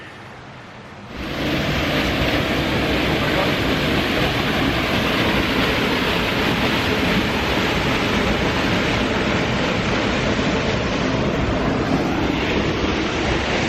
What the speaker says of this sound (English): Check out this nice little waterfall we got.